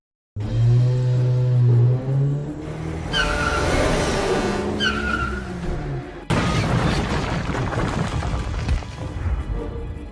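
A taxi driven in a video game, starting abruptly with a droning engine note, then revving and whining higher with skidding texture, and cut by a sudden crash-like burst partway through before rough driving noise continues.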